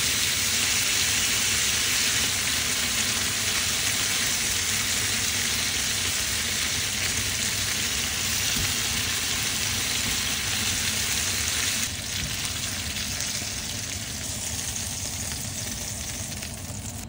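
Filipino-style pork barbecue, basted with banana ketchup, sesame oil and oyster sauce, sizzles on a hot plate: a loud, steady, dense hiss throughout, easing slightly toward the end, with no talking.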